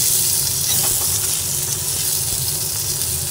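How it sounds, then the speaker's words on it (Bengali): Onions frying with cumin powder, coriander powder and tomato sizzle steadily in a pan over low gas flame, with a continuous close bright crackle and occasional stirring scrapes, no voices. "পেঁয়াজটা ভাজা হচ্ছে"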